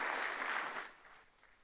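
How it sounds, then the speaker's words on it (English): An audience at a tax conference gives a brief round of applause, a soft, fairly distant wash of clapping that fades within about two seconds. "they require a big round of applause"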